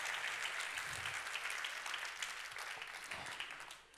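An audience at a business conference session applauds the performers, a dense but faint wash of clapping that holds steady before tapering off near the end.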